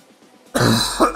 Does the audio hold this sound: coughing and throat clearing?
yes